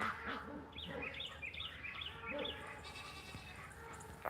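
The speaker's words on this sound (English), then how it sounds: "And the goats and the ducks." Goats bleating in a barnyard alongside ducks and birds, several short quiet calls overlapping in an irregular scatter at moderate distance.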